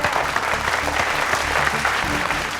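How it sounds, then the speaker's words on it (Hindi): A studio audience on a Hindi crime-drama television show breaks into loud, dense applause from many hands, with music playing underneath, continuous and close throughout. "जोरदार तालियां"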